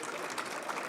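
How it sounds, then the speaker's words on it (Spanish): An audience applauding a nursing graduate at a legal-focus event in nursing, a steady, dense wash of clapping held for about a second, moderately loud with no voices. "Yo les pido un aplauso muy fuerte para Marta Laura."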